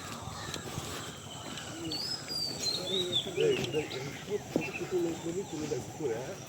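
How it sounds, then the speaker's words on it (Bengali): Birds call in the Sundarbans mangrove forest: a high whistled line, cooing and chirps over a steady insect buzz, heard at moderate distance with faint voices murmuring in the background. "এ হচ্ছে পাখি।"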